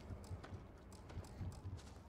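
Creature hoofbeats in the Starfield video game, a series of soft, low clip-clop thuds in loose irregular clusters, fairly quiet against a steady background hum.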